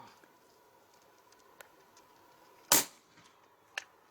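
A single sharp crack of a Hatsan Factor RC .22 PCP air rifle shot, then a faint tap, set against a quiet background with a few soft clicks.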